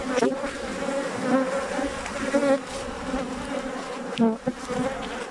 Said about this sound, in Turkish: Arılar çıkmaya başlamış bunlar